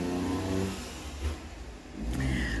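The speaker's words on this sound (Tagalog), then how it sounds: "Ang dami-daming dumadaan na sasakyan kasi traffic na naman doon sa pinaka-highway" Cars and other vehicles pass along a busy, congested highway, a steady near roar of engines with rising and falling swells as they go by, no voices.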